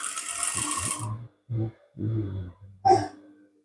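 A sewing machine stitches down the folded neckline of a gown in several short runs of close mechanical whirring, with brief pauses between them.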